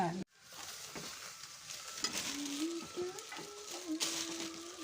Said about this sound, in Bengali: নাড়াবো নাড়াবো।